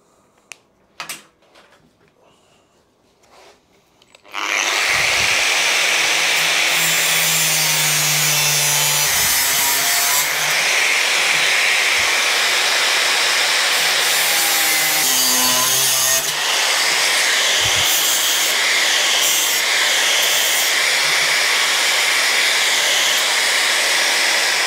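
A power tool cuts metal for a BMW motorcycle seat base, a loud, sustained harsh grinding whine that starts abruptly after a few quiet clicks and continues steadily with shifting pitch.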